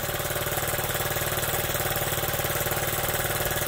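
A Honda Z50 motorcycle with points ignition idles steadily right after its first start, a close, loud, even engine putter that holds without a break throughout.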